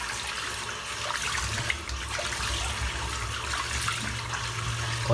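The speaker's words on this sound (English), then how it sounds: "Onto a splash of cold water" Cold water splashed and running after a head shave, a continuous hiss of pouring, trickling water with a low underlying rumble, steady throughout and without talk.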